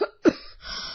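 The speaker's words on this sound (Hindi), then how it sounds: "आपको तो बहुत खांसी हो रही है" Two short, dry coughs in quick succession, close by, followed by a brief breathy exhale.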